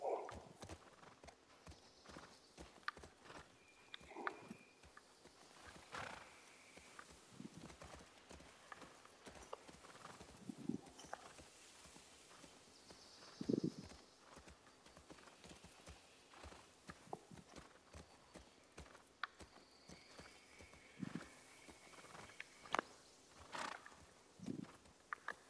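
Horse hooves clip-clopping in The Last of Us Part II, slow irregular footfalls at moderate distance with occasional louder steps and a brief whinny, set against faint ambient game background.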